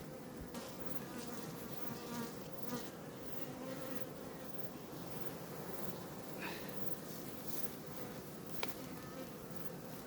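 Honey bees buzzing around a hive, a continuous dense drone with individual bees passing close, steady and fairly quiet throughout.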